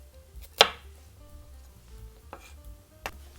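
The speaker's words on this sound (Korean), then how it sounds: "그냥 1cm 정도 사각으로 썰어주세요." A kitchen knife strikes a wooden cutting board a few times, dicing a seeded vegetable into roughly 1 cm cubes. One sharp, close chop stands out, and a couple of softer taps follow over a quiet room.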